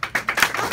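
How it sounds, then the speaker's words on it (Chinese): Scattered applause from a small audience for the host at a live talk event, a handful of uneven hand claps in quick succession, close and fairly loud. "我觉得也要给主持人一个掌声哈"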